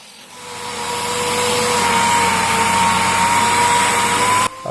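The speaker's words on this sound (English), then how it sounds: "I finished most of my stainless with a DA just because you want it to look nice before you give it to a customer." A DA sander runs steadily on stainless steel mailbox numbers, a loud close whirring hum that builds up at the start and holds, then cuts off briefly near the end.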